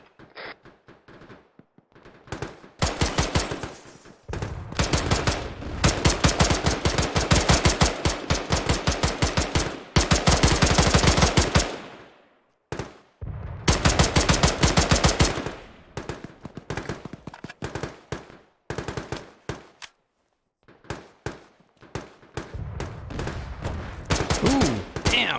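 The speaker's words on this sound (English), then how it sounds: "Incoming artillery to our northeast." Sustained bursts of automatic gunfire and heavy explosive thuds from artillery in a large multiplayer Arma battle, loud and dense, with rapid rattling volleys broken by short gaps and distant booms.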